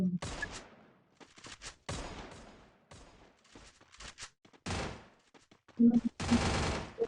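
Video-game gunfire in rapid automatic bursts and single shots, loud and close, spaced through the clip with short quiet gaps and heavier volleys near the end.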